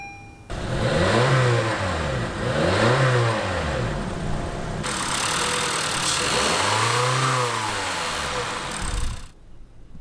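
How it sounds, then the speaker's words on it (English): The 1.5-liter engine of a 2016 Honda Fit hatchback starts, then revs in three rising and falling blips between a steady idle. The sound is close and clear, with no talking. "let's start up the engine for a second and see how that sounds"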